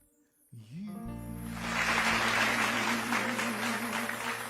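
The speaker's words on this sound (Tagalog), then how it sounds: "Maraming salamat po sa mga pumalakpak." Audience clapping during an online singing session swells in after a low, sustained musical tone. The clapping builds to a steady, moderately loud patter that continues over the held note.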